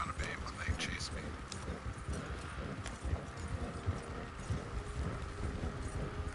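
Hooves clip-clop in a fast, continuous galloping rhythm as a horse runs in the Red Dead Online video game, with a voice talking over the steady pounding.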